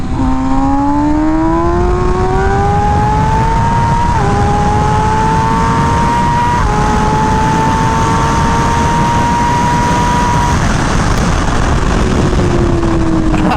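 An MV Agusta Rush motorcycle accelerates hard in traffic, its engine note climbing steadily through several gears with brief dips at each shift, loud and close throughout with wind rush underneath.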